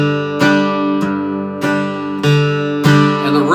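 Bluegrass rhythm guitar alternates a single bass-string note on the downbeat with a full chord strum on the upbeat, five crisp strokes in steady time, close and alone.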